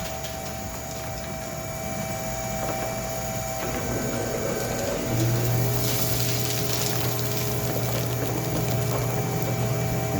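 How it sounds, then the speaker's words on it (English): A homemade squirrel husker and blower machine running together, a steady mechanical hum and rattle with a low motor drone that strengthens midway as the second machine starts, loud and close with no talk. "First, we're gonna fire up the husker. Next, we're going to fire up the blower."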